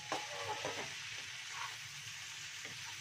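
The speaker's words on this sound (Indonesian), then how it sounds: "Diaduk-aduk, pelan-pelan diaduk ya." Fried capelin fish are stirred slowly in a hot pan with red chilli, a continuous close sizzle with soft scraping strokes of the spatula over it.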